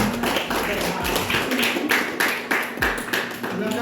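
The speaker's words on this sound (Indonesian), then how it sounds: "Oke, aplaus untuk berdua." Classroom applause for two presenters during a teaching session, a short burst of hand clapping with tapping sounds, moderately loud with room noise and some voices mixed in.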